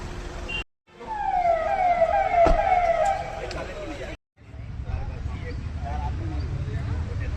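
A police car siren wails close by with a rising and falling tone, cutting out abruptly, then giving way to rumbling road and traffic noise with people talking nearby.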